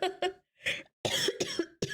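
A streamer coughs in a rough burst of several harsh, close coughs separated by short pauses, loud and dry with no speech between them.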